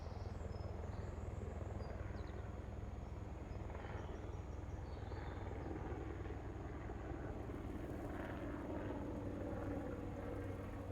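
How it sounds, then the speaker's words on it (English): A helicopter flies over farmland, heard as a faint, continuous engine drone with a low rumble and no nearby voices. "Oh, and speak of the devil, there's the helicopter."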